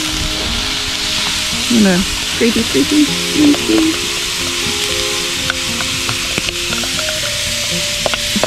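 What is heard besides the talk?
carrots, onions and celery frying in a Dutch oven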